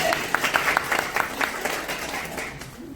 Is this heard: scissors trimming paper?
no